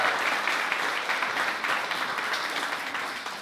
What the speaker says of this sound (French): J'aimerais entendre un plus grand applaudissement à ceux qui croient au rêve de Dieu ce matin.